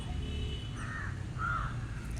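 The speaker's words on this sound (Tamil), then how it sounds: "மாடியில் வந்தால் குருவிகளின் ஓசையும் காகம் கரையதும்" Crows cawing on a rooftop terrace: two drawn-out, moderately faint caws sound a moment apart over steady low outdoor noise.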